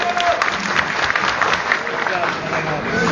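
Wedding guests at a celebration in France clap and cheer for a singer, a dense burst of applause mixed with crowd babble throughout.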